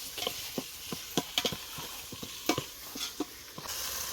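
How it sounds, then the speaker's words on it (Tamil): Tomatoes sauté in a pan over an outdoor cooking fire in a forest, with irregular clicks and scrapes of a spoon stirring over a soft, low sizzle. "தக்காளி நல்லா வதங்கட்டும்"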